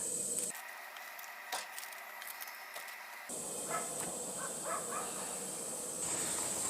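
Cooking oil sprayed onto four large patties on a hot Coleman portable cooking system, a short burst of aerosol hiss followed by soft steady sizzling and faint crackles, quiet and close.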